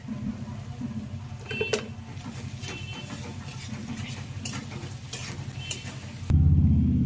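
Ground spice paste of green chilli, cumin and tomato frying in a pan for palak paneer, a steady close sizzle with stirring scrapes, then a sudden louder burst of sizzling near the end.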